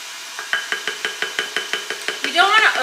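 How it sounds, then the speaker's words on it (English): A spoon beats flour into thick sugar cookie dough in a bowl, giving a steady run of about a dozen evenly spaced soft knocks and scrapes, close and clear, then a quicker scraping flurry at the end. "And we're going to stir this in."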